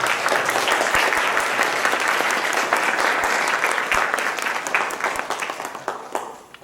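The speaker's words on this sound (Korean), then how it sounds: "우리 축하의 박수 한번 보내주시기 바랍니다." A church congregation at a Christmas Sunday service breaks into sustained, dense applause, loud and steady for several seconds before tapering off toward the end, with no talk over it.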